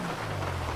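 Rain falls in the video game GTA 5, a dense, steady hiss of drops with a low hum beneath, continuous and even throughout.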